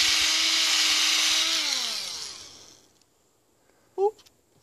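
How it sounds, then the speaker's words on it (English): A power drill bores a hole into a tree trunk for a sap flow probe, a loud steady whine that winds down and slows to a stop, followed by a brief sharp knock. "The reference probe drill bit is really kind of smaller, so you can almost just put it in the drill so you're going the right amount."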